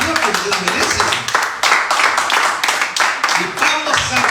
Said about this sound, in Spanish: Denle un aplauso al Señor que se lo merece